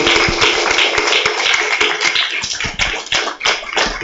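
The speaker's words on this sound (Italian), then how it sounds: "Un applauso per il signor Vitale." Audience applause at a literary award ceremony, the Premio letterario Città di Olbia: a dense, steady patter of many hands clapping close and loud for a few seconds without speech.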